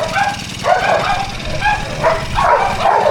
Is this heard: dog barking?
yes